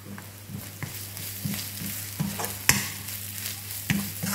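Grated coconut with turmeric sautéing in a pan, a soft steady sizzle broken by repeated scraping stirs of a spoon, close and fairly quiet, with no talking.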